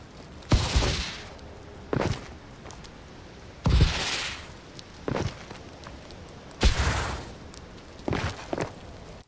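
Boost jumps in the video game Call of Duty: Advanced Warfare come as loud, sharp thrust bursts, paired in quick succession and repeated three times at roughly three-second intervals over quiet background hum.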